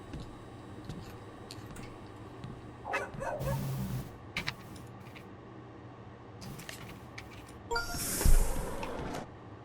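A dog barks a few times in the Milgram Experiment video game, with irregular sharp yips over a steady background hum and a louder bark burst near the end.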